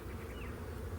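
Honeybees drone around an opened hive during an early-season inspection, a low, steady buzz held close for a brief moment with no talking.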